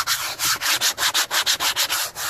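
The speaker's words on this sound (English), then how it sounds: "the idea is to create a bit of abrasion in there to put a key for the first coat of etch primer" A VW T4 rear bumper being abraded by hand ahead of etch primer, a close, loud run of rhythmic back-and-forth scrubbing strokes, about a dozen in quick even succession, with no talk.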